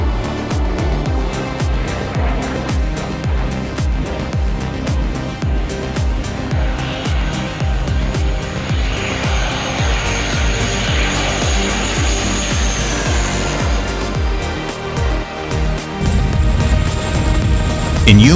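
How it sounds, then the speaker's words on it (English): An F-16 fighter jet roars low overhead just meters above a crowd at an air show, a deafening, continuous engine roar that stays loud and close throughout with no speech. "F-16, the jet cuts through the air just meters above the crowd. The roar is deafening"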